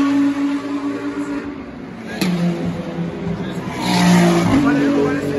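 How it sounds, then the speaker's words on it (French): GT3 race cars on a circuit go past with high engine whine and tire squeal, the sound rising to a louder pass near the end while someone talks over it. "là on va devoir écouter parce que les voitures sont en tête"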